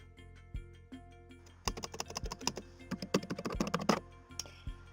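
Rapid typing on a computer keyboard as a long card number is entered: a string of sharp, close key clicks arriving in quick irregular bursts, with a few isolated taps before and after.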